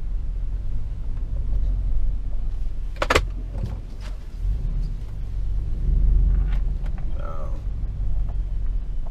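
A truck driving down a street gives off a steady low exhaust drone, heard from inside the cab, with occasional creaks and rattles over the constant rumble. No one talks.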